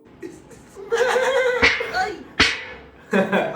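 A voice imitates a horse's whinny, a quavering high call, followed by sharp bursts of laughter-like exclamations.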